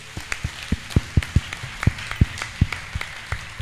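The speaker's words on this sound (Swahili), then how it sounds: "Tupigie Mungu wetu makofi." A congregation claps in a church during a holy communion service, sharp distinct hand claps arriving in a loose, uneven rhythm, close and fairly loud with no talking.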